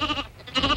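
A sheep bleats in a short, close, wavering call that breaks briefly in the middle, heard alone without talk.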